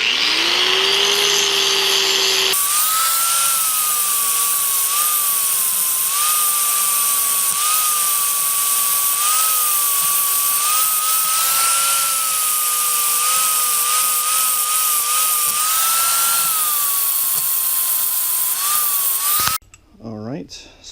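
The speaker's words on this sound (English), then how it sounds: "we gotta make sure we grind all this like really flat so we can weld them together" A power grinder grinding 300ZX transmission shifter parts flat for welding, a loud continuous high-pitched whine held steady for most of the clip with slight pitch wavering, stopping abruptly near the end.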